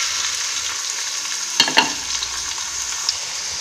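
Chopped onion and green chilli frying in hot oil in a pan, a steady close hiss of sizzling throughout, with a couple of brief clinks and stirring scrapes partway through.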